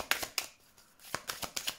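Tarot cards handled and laid onto a spread, quick crisp flicks and soft slaps of card stock, several close sharp snaps in an irregular rhythm, quiet and without talk.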